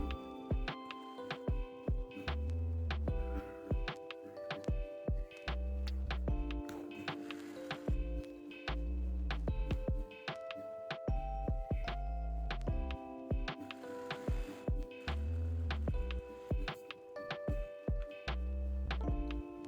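A sewing machine stitches the hem of a pajama leg in quick, rhythmic bursts of ticking and clattering, with short pauses between runs, close and fairly quiet.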